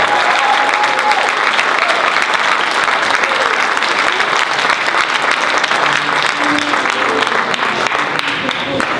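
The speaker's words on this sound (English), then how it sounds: "Another round of applause." An audience at a Black history program applauds an alderman and mayoral candidate, loud, dense clapping sustained for several seconds with a few faint voices mixed in near the end.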